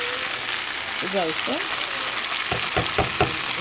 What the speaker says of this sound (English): Then I'm going to be adding the dry shrimp